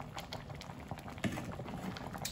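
Chicken simmers in a thick peanut sauce with a steady low bubbling and popping patter, continuous and close, with one slightly louder plop partway through.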